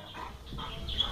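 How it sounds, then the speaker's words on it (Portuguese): A pit bull barks in short, moderately loud bursts from somewhere nearby, roughly three barks spread across a brief moment with a whimpering edge and no talk over them. "Escutou ela latindo aí"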